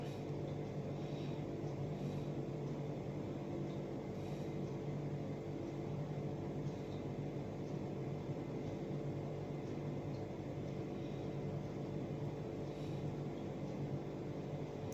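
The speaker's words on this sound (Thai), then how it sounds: "เราจะผัดจนกว่าหอมเขาจะนิ่มนะครับ" Onions and minced pork stir-fried in a pan, a constant low sizzle and hum with occasional faint scrapes, steady and fairly quiet.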